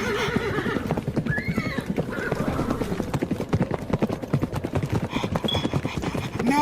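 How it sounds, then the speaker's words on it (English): A horse named in an audio drama neighs and whinnies over a steady clatter of hooves clip-clopping at close range. A voice runs loudly on top throughout. "No, you stupid horse,"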